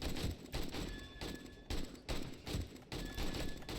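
AK rifle fire in the 7 Days to Die video game comes in repeated short bursts of automatic shots separated by brief pauses, fairly faint overall.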